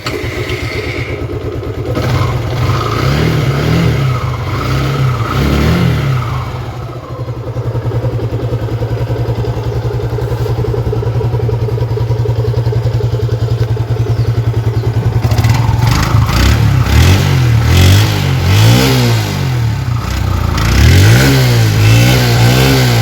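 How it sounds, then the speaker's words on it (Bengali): A used motorcycle's engine runs steadily close up, with a strong low idle hum that rises into repeated revving bursts during the later half, mechanical clatter underneath and no voices. "এখন আপনাদেরকে ইঞ্জিনের সাউন্ড শোনানো হচ্ছে, সাউন্ডটি শুনুন।"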